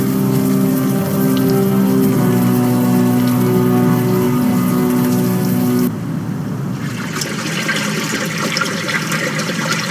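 Steady rain pours in the adventure game Unavowed, a dense continuous hiss with a low musical hum underneath that cuts out partway, leaving the rain alone and a bit brighter.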